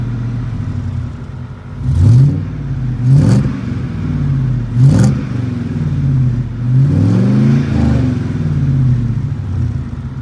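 The V8 of a 2001 Chevrolet Suburban 2500 HD running on propane revs up several times in quick bursts, rumbling deep close by between the throttle blips, with no talking.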